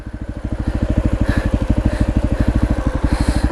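A dirt bike engine runs steadily up close, its rapid rhythmic low thump pulsing evenly throughout at a strong, constant level with no speech.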